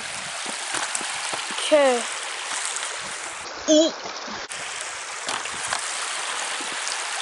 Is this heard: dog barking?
no